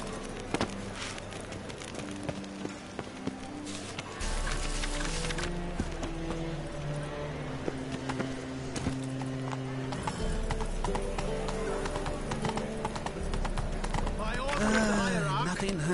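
Roach, the horse in a video game, trots with steady clip-clop hoofbeats and gives a brief whinny, all set against loud in-game music that carries on throughout the clip.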